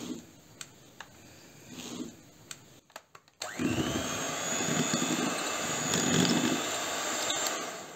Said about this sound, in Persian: تو این مرحله من کاملا موادمو با هم دیگه میزنم تا پوک و کرم رنگ بشه